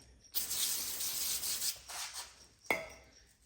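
A rag soaked in brake cleaner rubs over a steering part from a Craftsman YT3000 riding mower, giving close, quiet scrubbing swipes in several separate strokes with brief pauses between.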